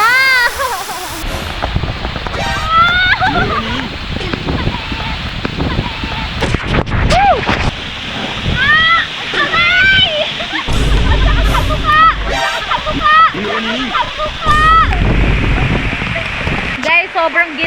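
Dampalit Falls pours and splashes at the foot of a mountain in heavy rain, a broad wash of water noise under loud, excited chatter and shouting from several people close by.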